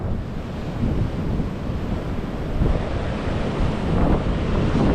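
Large Pacific Ocean waves breaking near San Diego under a steady roar of wind, with continuous heavy surf wash and wind buffeting the microphone, loud and unbroken throughout.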